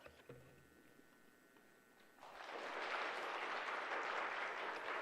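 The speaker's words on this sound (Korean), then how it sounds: "박수로 환영해 주시기 바랍니다." A church congregation applauds to welcome a missionary to the front during a Wednesday service; after a quiet stretch, steady clapping swells up and carries on evenly.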